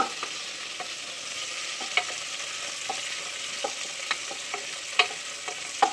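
Onions and tomatoes sautéing in a pan for country chicken curry, a soft steady sizzle with frequent light taps and scrapes of the stirring spoon, fairly quiet and close.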